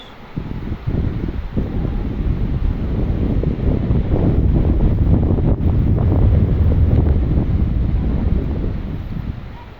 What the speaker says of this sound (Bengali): যেরকম বৃষ্টি সেরকম বাতাস